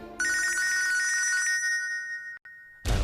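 A telephone rings loudly indoors, its bright trilling bell sounding alone for over a second before breaking off, followed by a sharp rustle or handset pickup.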